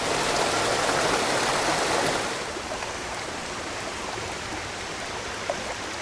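Water pours down Bastion Cascades in a steady broadband rush, louder for the first two seconds and then settling into a softer continuous flow, with no voices.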